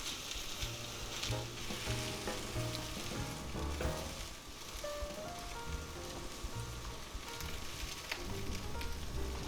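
French toast and sausage frying in a cast iron skillet, a dense, crackling sizzle like steady rain with occasional low tonal hum and utensil clinks, near and continuous, no one talking.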